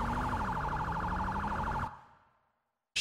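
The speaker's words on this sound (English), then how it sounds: "I gotta turn off my siren" A police car siren in GTA 5 wails with a fast, warbling yelp over engine rumble, then cuts off abruptly and fades into silence before a sudden burst.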